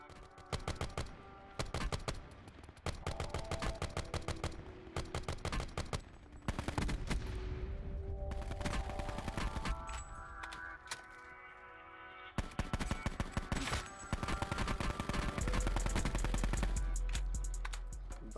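Assault rifle fire in the video game Call of Duty Black Ops, alternating short tapped bursts and longer full-auto strings; rapid, sharp, loud shots in repeated clusters with brief gaps, nothing else competing.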